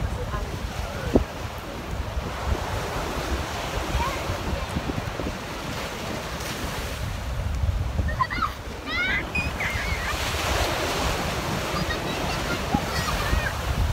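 Strong wind buffets the microphone while ocean waves surge and crash nearby, with faint voices and brief bird-like chirps partway through.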